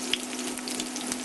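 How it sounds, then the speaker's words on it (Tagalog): Garlic and whole black peppercorns fry in hot oil, giving a steady, close, continuous sizzle with faint crackles and no voices. "Lulutuin lang natin to hanggang sa mag-medium brown yung garlic"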